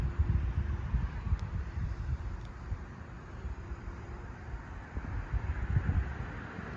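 Steady low wind rumble buffeting the microphone outdoors, continuous and fairly loud with gusty surges.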